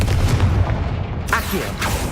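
A Confringo fire spell from the Hogwarts Legacy video game goes off inside a tomb as a single loud, bursting blast over a low, rumbling background.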